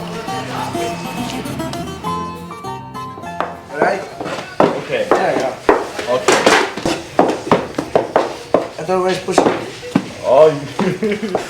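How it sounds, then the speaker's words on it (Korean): Aged bread dough is cut into even pieces and rounded by hand in a bakery: a steady run of sharp tapping and thudding knocks from the cutting and shaping, with a clattering start and occasional dish-like clinks. "숙성시킨 반죽 덩어리를 일정한 크기로 툭툭 잘라내 동그랗게 모양을 잡아줍니다"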